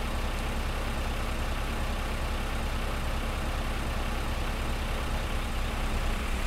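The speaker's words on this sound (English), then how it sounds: "this little plow is hooked up to our Massey Ferguson here. That still seems to be going along good and strong." A Massey Ferguson 698 tractor in Farming Simulator 15 pulls a plow, its engine giving a continuous low, steady drone with no change in pitch and no talking.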